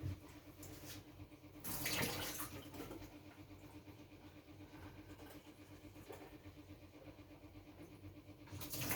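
Tap water runs into a small spoon at a quiet indoor sink, with a brief louder gush of water early on that settles into a faint, steady trickle.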